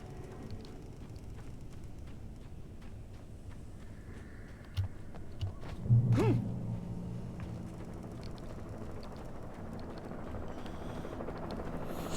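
A helicopter in the video game Alan Wake gives off a continuous low rumbling drone, with a brief louder swell midway and no speech over it.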